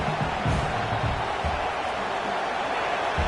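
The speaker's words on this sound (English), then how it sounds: "This crowd bringing the energy and noise early." Stadium crowd at a Miami football game roars in a broad, steady wash of cheering and noise, sustained and fairly loud throughout.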